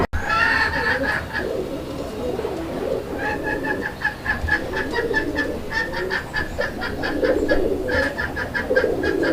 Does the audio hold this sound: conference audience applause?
no